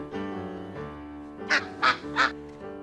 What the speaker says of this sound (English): This is better," quacked Mr. Mallard